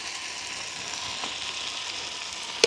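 Vegetables, rare wild thumbangai for a village-style curry, sauté in a pan with salt, giving a steady, close sizzle and hiss throughout with a brief sharper crackle near the end.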